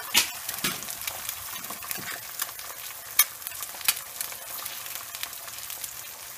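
Steady sizzling and crackling of food frying in a hot Lodge cast iron pan, with occasional sharper pops and faint stirring scrapes.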